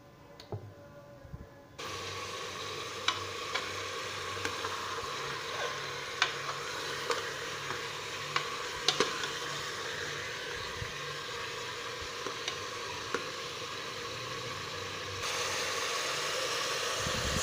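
Beef sizzles in oil inside a degchi pot for beef karahi, a continuous hissing fry dotted with small pops and clicks, steady and moderately loud with no one speaking.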